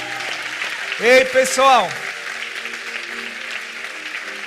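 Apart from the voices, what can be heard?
audience applause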